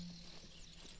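Horse hooves clip-clop steadily in Red Dead Redemption 2, a quiet, even stream of footfalls with faint game ambience behind them.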